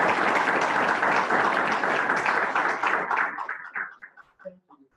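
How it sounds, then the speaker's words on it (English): Audience applause welcomes a speaker to the stage at an enterprise UX talk, a dense wash of many hands clapping that holds steady for about three seconds before thinning to a few scattered claps and fading out. "let's give Austin a round of applause."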